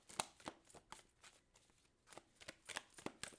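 Tarot cards are shuffled and pulled from the deck, making soft, close snapping flicks and riffles in quick clusters separated by short pauses.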